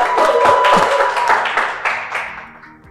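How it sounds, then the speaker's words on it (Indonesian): An audience at a mock presidential debate applauds for a candidate, a close burst of clapping with separate claps standing out that fades away over a few seconds. "Tepuk tangan buat pendukung"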